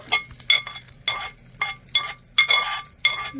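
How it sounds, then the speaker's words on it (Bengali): A spoon stirs chutney in a bowl with a quick run of close, crisp scrapes and light clinks in an irregular rhythm, no voices present. "ভালো করে একটু মিশিয়ে নেব"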